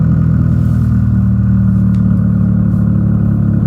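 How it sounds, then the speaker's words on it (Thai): A used Honda car engine idles steadily and close, a loud, smooth low rumble with an even throb and no speech. "เครื่องสตาร์ทติดง่ายนะครับ เครื่องดีแบตดีนะครับ เสียงนิ่มๆ โหดๆ เลยนะครับ"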